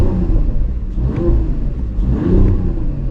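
A 2025 Mercedes AMG GLE53 Coupe hybrid facelift engine heard from inside while driving, a loud steady low rumble rising and falling in two gentle surges of revving, with no talk.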